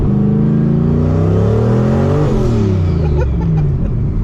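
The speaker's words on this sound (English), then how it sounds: "That blow-off valve noise never gets old" A turbocharged Fox Body Mustang notchback with a 302 engine revs hard, then drops off with a blow-off valve's rushing release of air as the pitch falls, followed by a lower, uneven rumble.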